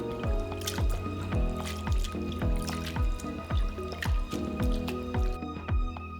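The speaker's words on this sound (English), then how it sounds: "soak the cabbage and carrots in the ice water for about 5 minutes, then drain and rinse them again" Shredded cabbage and carrots being drained and rinsed after an ice-water soak, with steady dripping and squishy wet handling in a quick repeating rhythm, close and clear.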